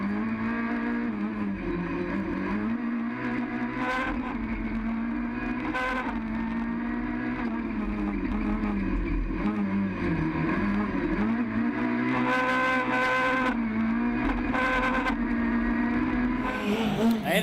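Rallycross cars, a Peugeot and Clios, race on the Lessay circuit in a French championship round, engines droning and revving continuously with rising and falling pitch, loud throughout, while commentary talk runs over them.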